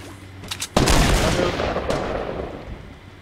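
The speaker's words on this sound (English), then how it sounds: "Oh, we're being shot at." Gunfire in a Fortnite 50v50 match: a few light clicks, then a sudden loud, booming volley that rolls on with echoing shots and noisy rumble, slowly thinning out.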